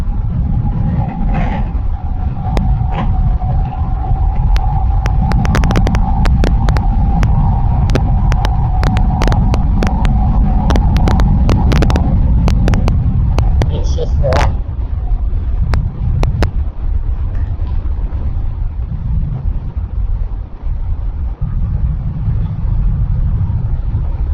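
A Yamaha R15 V3 motorcycle rides at speed on a road in Sindhudurg, its engine droning low and steady under heavy wind buffeting, with a brief higher whine midway and rattling gusts.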